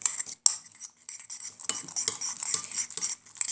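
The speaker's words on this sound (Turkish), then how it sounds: "Evet arkadaşlar karıştırıyoruz bakın." Homemade slime stirred in a bowl with a utensil, giving close, irregular scraping and clinking taps in short bursts, with no talk.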